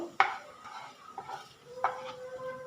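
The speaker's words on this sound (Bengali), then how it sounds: "এতে আমি ফোড়ন হিসাবে দিয়ে দিচ্ছি গোটা জিরে 1/2 টিস্পুন। এটাকে হালকা করে ভেজে নেব" Half a teaspoon of whole cumin seeds frying lightly in a little oil for a village-style Bengali fig dish gives a soft, faint sizzle, broken by a few sharp clinks of a utensil stirring in the pan.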